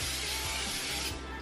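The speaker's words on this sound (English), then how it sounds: "spray the pan with some nonstick cooking spray" A short, continuous hiss of nonstick cooking spray onto a pan, loud and close, lasting about a second and a half with a slight mechanical rattle.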